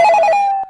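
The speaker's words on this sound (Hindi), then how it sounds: "इतनी रात को फोन किसका आ रहा होगा?" A telephone rings late at night in a home, a loud electronic ring burst of repeated warbling tones that stops abruptly after under a second.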